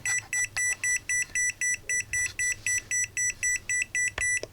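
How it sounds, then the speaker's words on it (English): A rapid electronic beeping alarm from an EMF01 electromagnetic radiation detector pulses steadily, about four high-pitched beeps per second, close and continuous throughout. "I can turn it off, that beeping signal."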